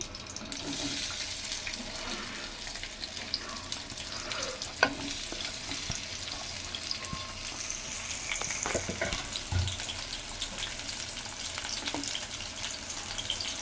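Green chillies and onions fry in hot oil with a continuous dense sizzle, broken by a few scattered clicks and scrapes from stirring.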